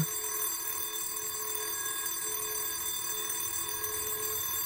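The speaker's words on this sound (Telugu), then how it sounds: "అలారం ఇంకా మోగలేదనుకున్నాను, మోగింది" An alarm rings with a sustained, steady electronic tone that holds at an even, moderate level throughout, with no talk over it.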